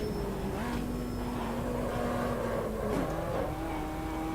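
Race car in Automobilista 2 running down a straight, a steady engine drone with pitch shifts as it revs, with thin tonal tyre squeal layered over it at a fairly low level.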